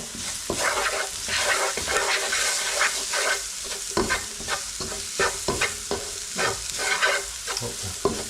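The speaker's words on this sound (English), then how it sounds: "Now put in the rest of your spices. Stir in." Spices are stirred into a frying base for a Kerala-style fish curry, with a spoon scraping the pan in repeated, uneven strokes over a steady close sizzle and no voices.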